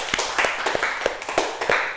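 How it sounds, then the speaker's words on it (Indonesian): A short burst of clapping from students in a classroom, several close, sharp claps in an uneven rhythm lasting about two seconds. "Iya betul, tepuk tangannya."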